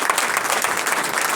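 A church congregation applauds, a dense, steady patter of many hands clapping at close range, continuous and fairly loud.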